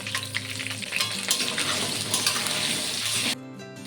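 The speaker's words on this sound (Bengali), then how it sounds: "আলুটাকে একটু ব্রাউন করে ভেজে নেব।" Potatoes frying in hot mustard oil, a dense, close crackling sizzle with brief sharper spits that stops abruptly near the end.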